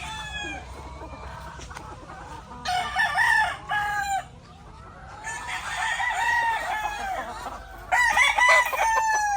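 Tornado hatch gamefowl roosters crow in long rising calls, several overlapping in bursts, with softer clucking and faint farmyard noise between the crows.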